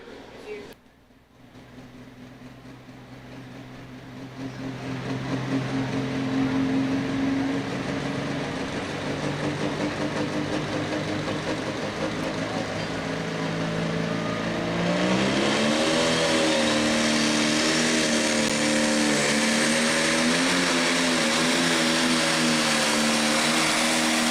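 A heavy pro stock pulling tractor engine roars steadily and builds, its pitch rising and wavering as it pulls under load at a county fair tractor pull, loud and sustained over a noisy crowd background.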